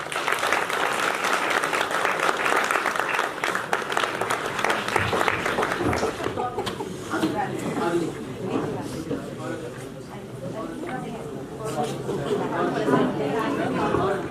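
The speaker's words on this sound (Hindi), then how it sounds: "एक तालियां तो हमारे लिए भी बनती हैं।" Loud applause from an audience at a school celebration of JEE Mains 2024 exam results, dense clapping throughout with crowd chatter mixed in and voices rising through the later part.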